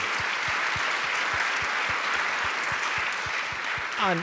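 A talk audience applauds steadily, a dense wash of many hands clapping at an even, fairly loud level from start to finish.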